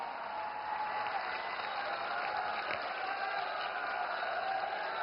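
Audience applause for PM Narendra Modi at a gathering in Dwarka, Gujarat: steady, dense clapping that holds for the whole stretch, broad and even with no individual claps standing out.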